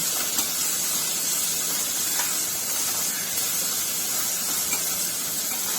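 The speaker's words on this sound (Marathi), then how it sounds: "कांदा मऊ होईपर्यंत परतवून घेऊया, साधारण 2-3 मिनिटं।" Chopped onion sautés in a hot pan for a dry potato curry, giving a steady, even sizzling hiss with faint crackles throughout and no voices.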